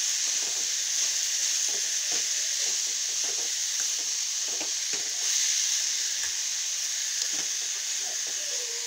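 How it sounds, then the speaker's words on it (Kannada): Cucumber fries in hot oil with a steady, gentle sizzle and hiss, broken by occasional soft crackles and stirring sounds, with no voices over it. "ಈಗ ನೋಡ್ರಿ ಸೌತಿಕಾಯಿ ಎಣ್ಣೆ ಒಳಗೆ ಫ್ರೈ ಆಗ್ಲಕತ್ತದ."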